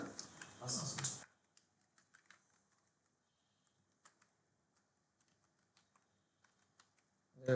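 HTML code is typed on a computer keyboard, producing scattered light key clicks in irregular bursts, faint and close, after a short spoken phrase at the start.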